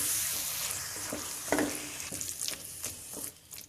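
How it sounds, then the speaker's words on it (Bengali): Olive pickle cooked with liquid jaggery sizzles softly in a pan on low heat. Several scraping stirs sound up close over the gentle hiss. "চুলা কম তাপে রেখে নেড়ে চেড়ে আচার বানিয়ে নিতে হবে"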